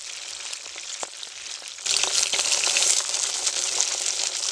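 Pabda fish pieces frying in hot oil in a pan, a steady close crackling sizzle that grows louder and denser partway through, with occasional spits and pops and no voices.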